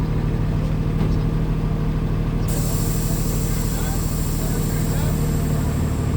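A tractor-trailer air brake system hissing continuously from an air leak during a tug test, a loud steady rush of air over engine rumble, with a sharper hiss joining partway through.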